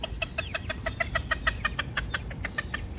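A frizzle rooster makes rapid, rhythmic clucking calls to draw hens to food, a close, steady stream of short pulsed notes over soft farmyard background.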